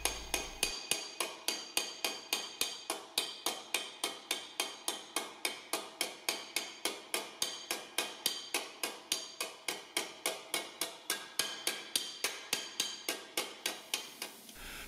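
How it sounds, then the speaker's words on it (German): Sheet metal is smoothed with a planishing spoon under steady hammer strikes, a long even series of sharp metallic taps at a regular fast rhythm, close and clear with no talk. "Wenn die Form stimmt, wird das Blech final noch mit einem Treiblöffel geklettet."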